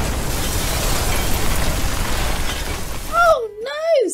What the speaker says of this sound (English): there was a loud explosion